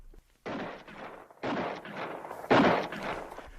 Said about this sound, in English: Suddenly I heard shots far ahead of me.